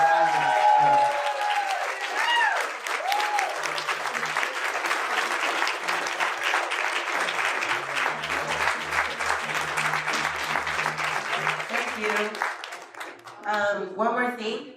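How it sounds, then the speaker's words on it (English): An audience applauds after an onstage interview at a Serve X event, loud sustained clapping and crowd noise across the whole stretch, with a voice speaking at the start and again near the end. "Let's give him a round of applause for Isaac."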